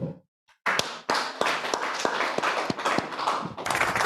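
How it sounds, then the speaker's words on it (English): A small workshop audience claps in a conference room: after a brief pause, a few sharp individual hand claps grow into steady, dense clapping that carries on for several seconds, near and fairly loud with no talking. "I'll clap for you in case you want to clap for yourselves."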